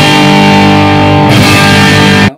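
An electric guitar runs through a tube distortion pedal at full gain, one thick, loud, saturated chord ringing steadily for about two seconds before cutting off abruptly.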